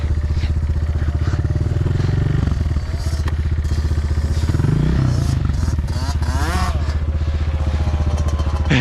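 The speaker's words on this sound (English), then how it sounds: "I think we'll take turns on this big bike because this one has trouble." A big dirt bike engine runs steadily and loud throughout on a winter dirt bike track, its low droning rumble revving up and down with some clatter.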